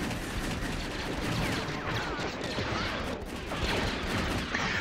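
An artillery piece fires in the Empire at War strategy game, Thrawn's Revenge mod, as dense continuous gunfire and rumbling explosions of steady loudness, with no break throughout.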